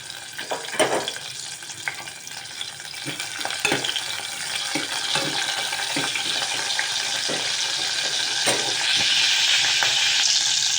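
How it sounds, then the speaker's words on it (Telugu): Pieces of onion sizzle and fry in a pan while preparing dalcha, giving a steady close crackle that builds louder toward the end, with a few stirring knocks scattered through. "ఈ ఉల్లి ముక్కలను ఎక్కువగా వేయించకూడదండి."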